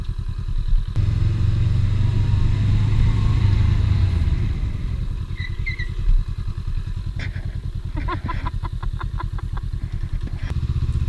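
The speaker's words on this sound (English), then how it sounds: "I dove on that back brake" A Honda Rebel 500 motorcycle brakes hard on its back brake, its engine note dropping sharply as it slows, followed by a rapid chattering clatter and an idling rumble, close and loud.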